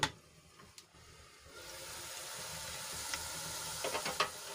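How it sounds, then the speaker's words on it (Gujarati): Chopped onions cook under a lid in a pan until they turn pink, giving a steady hiss of frying that builds and holds, with a few soft clicks and stirring knocks. "ડુંગળીને આપણે ગુલાબી રંગની થાય ત્યાં સુધી ઢાંકીને ચડવા દઈશું"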